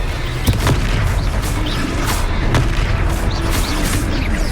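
Fiery Confringo spell blasts burst repeatedly in a Hogwarts Legacy battle, loud booming impacts at irregular intervals over a dense, rumbling game-combat din.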